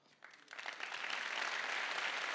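A comedy club audience at a stand-up show breaks into applause that swells from scattered claps into a dense, steady ovation, rising quickly and holding loud.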